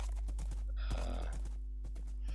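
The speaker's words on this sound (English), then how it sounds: "There's my horse." A Minecraft horse gives a close, clear whinny against steady game background sound, with soft clip-clop steps and faint clicking around it.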